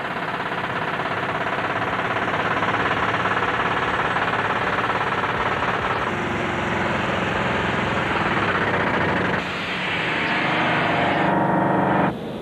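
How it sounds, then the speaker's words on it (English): A well drilling rig's air hammer pounds into bedrock in a rapid, relentless clatter over a loud engine roar, continuous and close, with a brief dip near the end. "they drove it home with the air hammer"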